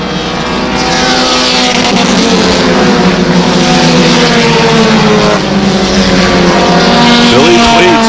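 Race cars running three wide on an oval track at an MSM event roar loudly and continuously, engines droning and shifting pitch as the pack passes, with commentary over the noise.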